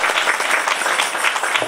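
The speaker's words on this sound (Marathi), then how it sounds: "बाबांसाठी एकदा टाळ्या." Dense, steady applause from a kirtan audience honoring the performer, a continuous roar of many hands clapping close by with no voices over it.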